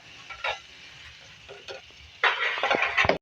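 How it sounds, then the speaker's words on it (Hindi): Eggplant dropped into hot oil and frying, a faint sizzle that swells into a louder crackling burst in the second half, with a few stirring scrapes. "इसकी ऑयल में बैगन ऐड करेंगे"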